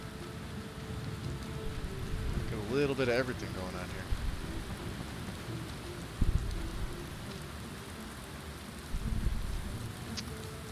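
Steady rain hisses across the whole stretch of a video game scene at night, a continuous soft patter with a brief louder thump partway through, while someone talks quietly over it.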